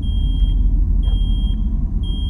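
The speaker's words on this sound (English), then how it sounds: "There's some beeping going on the other side." A smoke alarm in a horror video game beeps in evenly spaced, high, thin tones, about one every half second, heard from a distance over a low, continuous rumble.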